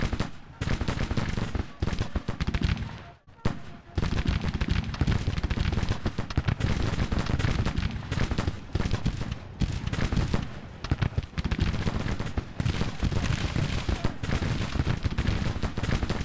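Rifle fire in a Grand Tactician Civil War battle, with dense rapid volleys crackling almost nonstop, loud and close, and a brief lull near the start.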